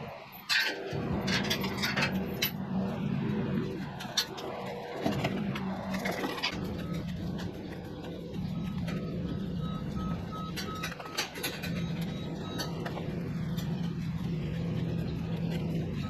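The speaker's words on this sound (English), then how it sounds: "So the chute's coming in right now, pulling it in with a skid steer." A skid steer engine drones steadily while towing a hoof trimming chute into place on a farm, with a few faint reversing beeps and scattered clanks over the continuous low rumble.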